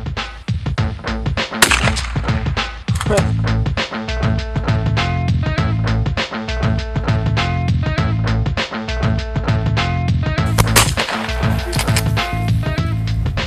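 Repeated 28 gauge shotgun shots ring out during a quail hunt, sharp loud reports spaced unevenly across the stretch, with a couple of heavier blasts standing out among lighter cracks and no talk over them.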